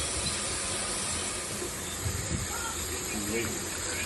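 Masala for horse gram curry fries steadily in a pan, a continuous broad hiss and sizzle throughout with occasional faint clinks, and a voice talks quietly over it.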